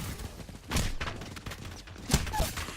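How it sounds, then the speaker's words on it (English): Scattered gunfire from flanking enemies in Apex Legends, a few crackling shots and bursts at moderate distance over a noisy game background, with no talking over them. "Some flankers shooting at me."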